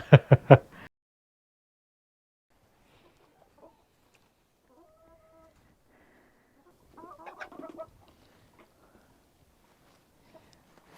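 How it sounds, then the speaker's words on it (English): A short burst of loud hen clucking at the start, then near silence, with a second softer patch of fowl calls later on. "I feel like the chickens are loving this weather."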